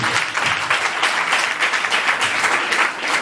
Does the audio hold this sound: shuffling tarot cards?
no